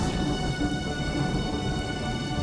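A storm with heavy rain and thunder, a steady dense roar of rainfall with a low rumbling undertone throughout, loud and continuous with no voices.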